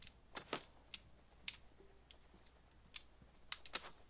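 A noisy computer keyboard clacking in irregular bursts of sharp keystrokes with pauses between, close and fairly quiet.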